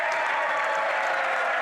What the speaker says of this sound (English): Why are they cheering for the Bloc?